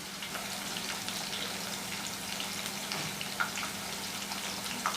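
Thick plantain slices deep-frying in hot oil for spicy chips give a steady, dense crackling sizzle with scattered pops. It runs unbroken throughout, close and even, with no talking.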